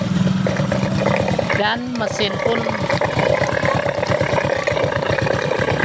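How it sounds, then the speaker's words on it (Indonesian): A motorcycle engine runs smoothly at a steady idle, close and fairly loud with an even pulsing beat, while someone talks briefly over it. "mesin pun halus, suaranya halus"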